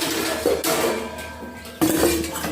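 Dishes being washed and set down in a home kitchen, with a steady wash of running water and clattering crockery, broken by two sudden louder knocks of items placed down nearby.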